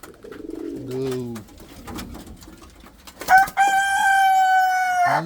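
A rooster crows loudly and close by near fantail pigeon lofts, one long drawn-out call following soft pigeon cooing.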